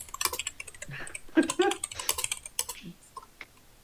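Hard, rapid clacking of a computer keyboard being typed on aggressively, a short flurry of sharp keystrokes close by, with a bit of voice mixed in underneath.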